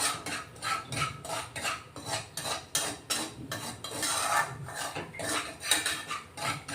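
For a kheer, flour is dry-roasted in a pan after the rice and stirred steadily, giving a rhythmic scrape-and-rub of the spoon against the metal with a faint crackle underneath, alone and moderately close.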